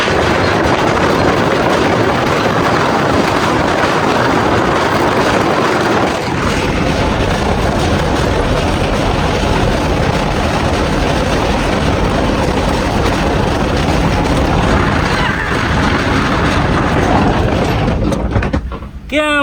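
A car crosses a rattling bridge on the way to Thang village near the India border, giving loud, continuous, train-like clattering and rumbling that fills the whole stretch before ending abruptly.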